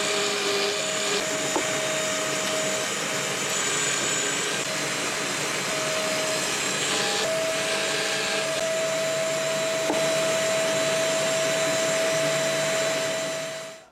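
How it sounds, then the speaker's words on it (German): A power drill with a 12 mm bit bores holes, giving a steady loud whine that runs the whole time with slight changes in pitch and no pauses. "Das ist jetzt wieder mein 12 mm Bohrer und dann mache ich jetzt die Anzeichnungen, bohre ich hier diese 6 Löcher rein."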